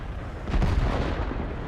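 A T-34-85 Rudy, a tier 6 Soviet premium medium tank, fires its main gun in a video game: a single heavy booming shot with a low rumbling tail, fairly loud and close.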